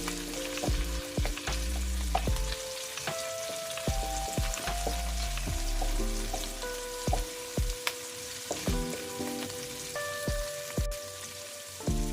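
Mixed vegetables with pork frying in a pan, a continuous crackling sizzle punctuated by clinks and scrapes of a utensil stirring, steady and close throughout.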